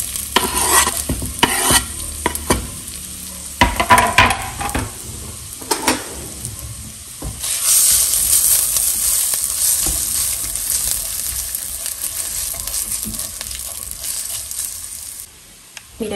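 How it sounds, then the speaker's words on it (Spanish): Half a chopped onion with a splash of oil frying in a saucepan, loud continuous sizzling with scraping and stirring clatter early on, then a steady hiss, no speech. "En una cacerola vamos a agregar un chorrito de aceite y voy a agregar media cebolla picada."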